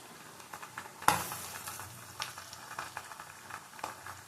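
Ginger paste dropped into hot oil in a pan while cooking a rohu and catla fish curry, a sharp burst of sizzling followed by quieter crackling and stirring.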